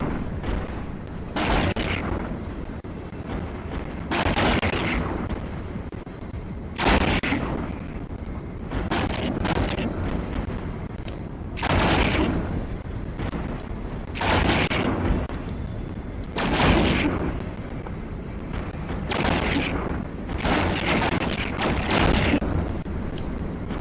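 Ship weapons firing during space combat in Eve Online, a steady series of about ten heavy booming artillery-like shots spaced a couple of seconds apart over a constant rumbling backdrop.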